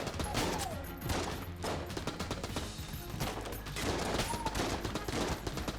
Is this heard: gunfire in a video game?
yes